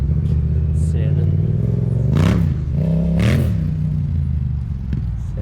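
Yamaha YZF R7 motorcycle fitted with a Yoshimura exhaust, its engine droning steadily up close with two sharp rev blips rising and falling, while voices talk over it.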